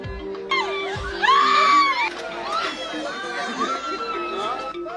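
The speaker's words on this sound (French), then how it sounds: "Des scènes de transe, un peu partout dans la foule, des cris stridents" Shrill, wavering screams rise from a crowd caught in trance at a gathering in Burkina Faso, loud cries peaking early and then continuing more faintly amid chatter and voices.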